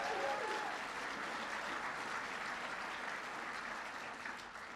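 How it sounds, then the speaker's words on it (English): Applause from a large audience at the White House Tribal Nations Conference opening session, dense and steady throughout, slowly tapering near the end. "You can give them a big round of applause."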